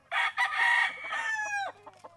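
A white Kelso gamefowl rooster on a breeding game farm crows once, a loud, close, drawn-out call that rises and then falls off near the end, followed by a few softer trailing notes.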